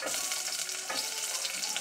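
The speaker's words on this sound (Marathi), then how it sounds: "मोहरी तडतडली की त्यामध्ये कांदा टाकायचा।" Chopped onion hits hot oil with crackling cumin and mustard seeds while cooking a Marathi-style cluster bean curry, a bright steady sizzle with a sharper burst partway through, close and unaccompanied by talk.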